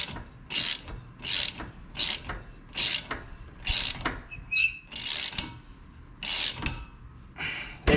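A ratchet with an extension tightening on the brake of a 2015 Scion tC, sounding as about nine rapid clicking bursts in a regular rhythm, close and fairly loud, with short pauses between strokes.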